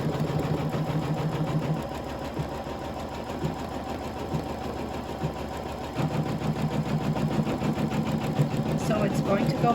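A sewing machine running slowly while stitching fabric for a nesting basket produces a steady, fast mechanical whirring and ticking, close and continuous, briefly easing off partway through, with a person talking over it.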